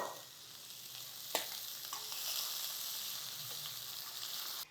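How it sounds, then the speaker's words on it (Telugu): Thinly sliced onion sizzles in a pan of hot oil for a masala khichdi, a constant crackling hiss with one sharp clink early on and no voices. "ఒక ఉల్లిపాయ సన్నగా ముక్కలు తరిగేమో అవి వేసేస్తున్నాను."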